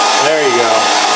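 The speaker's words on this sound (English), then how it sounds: "Turn the hair dryer." A hair dryer blows with a loud, close, steady rushing whine, its motor pitch wavering slightly over a short stretch.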